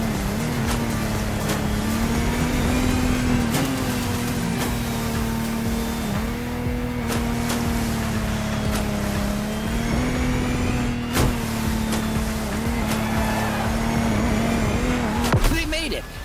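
A Lamborghini Technomar powerboat races in The Crew Motorfest, its engine droning loudly and steadily with shifts in pitch, while a commentator talks over it.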